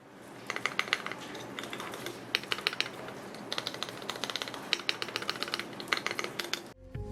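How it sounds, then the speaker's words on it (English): Keys on a CIY GAS67 custom mechanical keyboard with stabilizers fitted are pressed in quick bursts of clacking strokes, several clusters of dense taps separated by short pauses, close and fairly quiet with no voices. "after inserting the stabilizers, I checked whether they sounded alright and whether there are any rattling"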